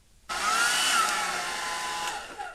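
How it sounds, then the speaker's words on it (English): A hair dryer switches on abruptly and blows steadily at close range to dry a watercolour painting, its broad hiss holding for about two seconds before easing slightly. "Let me get a hair dryer."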